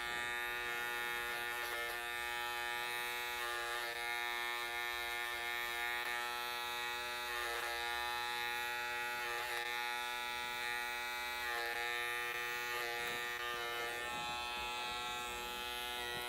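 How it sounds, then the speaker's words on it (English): An electric hair trimmer cuts a man's hair using the trimmer-over-comb technique during a barbershop haircut, giving a steady, close, unbroken buzz with a bright whine that runs the whole time with no talking. "with the little trimmer using Trimmer-over-comb"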